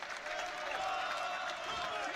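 A boxing crowd at the Haringey Box Cup finals applauds after the final bell of a bout, giving a steady wash of clapping and cheering with commentators talking over it.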